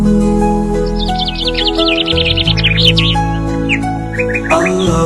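Rapid high bird chirps and tweets play through an Islamic children's lullaby. They ripple over sustained music while a voice sings, then come back as a few short chirps near the end.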